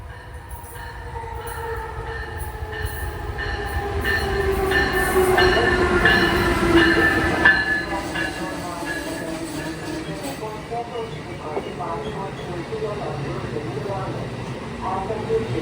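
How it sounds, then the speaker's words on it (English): An Amtrak ACS-64 electric locomotive rolls into Old Saybrook station, its rumble and tonal electric whine swelling to a loud pass, with wheel squeal and clatter as it slows; a station announcement voice is heard. "train approaching."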